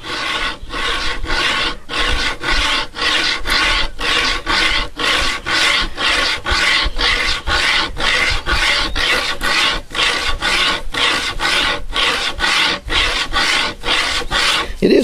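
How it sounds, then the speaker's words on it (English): An improvised wire bow saw rasps through dry wood in steady back-and-forth strokes, about two per second, close and loud, with no voices. "it is sawing, and it isn't sawing too bad."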